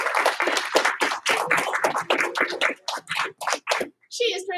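A group claps twice for a girl karate student being promoted at a karate class, short bursts of sharp claps mixed with chatter and children's voices, ending with a brief high squeal.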